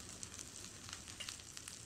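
Onion-garlic masala with red chili powder sizzles in a hot pan for a Khandeshi pungli patodi curry, a soft, steady crackling hiss with faint spits and no voices.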